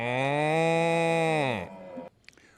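A voice imitates a cow, giving one long, loud, sustained moo that falls off at the end, followed by a brief quiet pause and faint noises.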